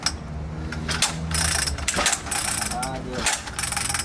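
Mechanical clattering and ratcheting from the pull-start on a broken mini motorcycle engine, with repeated rough bursts as the starter is yanked and no engine catching.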